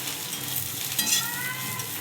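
Mustard and radish greens being stirred while they fry in a kadai for a mash dish, a steady close sizzle with scraping stirs throughout and no voices.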